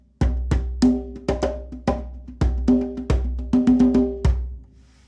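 A drum pattern in 7/4 time of sharp hits and ringing tones repeating in an uneven cycle, played alone and close.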